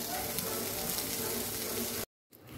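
Taka kharkon leaves frying in a hot pan give off a dense, continuous sizzling hiss for about two seconds before it cuts off abruptly.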